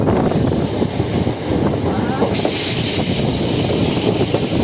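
A MEMU local train rolls into Barrackpore station with a loud, steady rushing rumble and hiss heard from on board, and people are talking in the carriage.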